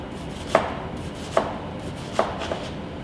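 A kitchen knife slicing an onion on a cutting board, three crisp evenly spaced chops followed by a softer fourth, close and clear with no talking.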